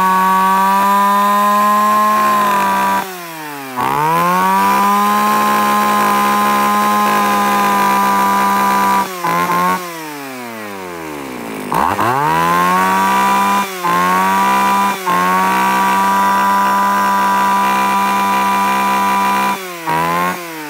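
A used Japanese Stihl, Echo or Shindaiwa model 331 chainsaw engine runs loud and close, holding a steady high rev with short throttle dips and revs back up, and no one speaks over it.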